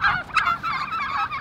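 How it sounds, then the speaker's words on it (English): A brief burst of turkeys gobbling, several warbling calls overlapping close by. "This is a turkey farm"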